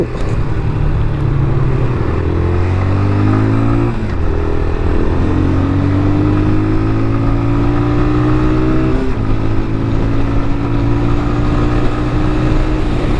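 A QJ Motor SRV 200 motorcycle rides in fifth gear through hot traffic, its loud, steady engine drone rising in pitch as it pulls, with brief dips around two shifts or throttle changes.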